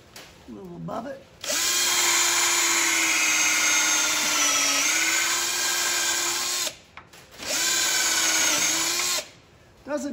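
An electric drill bores a hole in a part of an Oliver 550 tractor during a rockshaft seal repair, whining loudly and steadily in two long bursts with a short pause between, close up.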